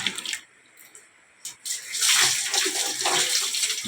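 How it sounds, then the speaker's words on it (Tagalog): Water splashes in short bursts, then pours steadily and loudly into a basin nearby, echoing slightly as in a small tiled room. "Buha tayo ng tubig muna."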